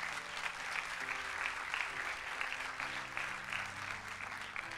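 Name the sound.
audience applause in church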